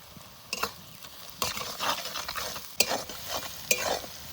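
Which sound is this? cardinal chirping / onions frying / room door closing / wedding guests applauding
onions frying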